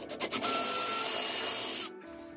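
A power screwdriver drives a screw into a pilot hole during bathroom refurbishment prep, with a few short bursts before a steady, close whirring run of about a second and a half that cuts off abruptly.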